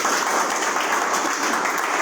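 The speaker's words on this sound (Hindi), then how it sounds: "तो एक बार प्रोडक्ट के लिए थोड़ा ताली होनी चाहिए।" An audience at a network marketing business meeting applauds in a brief, dense burst of steady clapping, evenly loud throughout.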